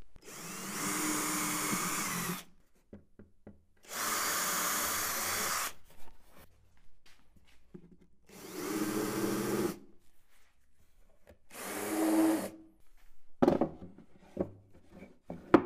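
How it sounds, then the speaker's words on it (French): Power drill boring and countersinking holes in a wooden board for a paint filter cabinet, four loud separate bursts of about two seconds each with short gaps, close and with no talk. "Indiquez à présent vos trous à percer, forez et n'oubliez pas de percer avec votre frésoir."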